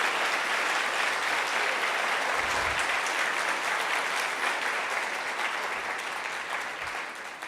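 Sustained applause from a church congregation fills the space at steady loudness, a dense wash of hand claps that tapers slightly toward the end.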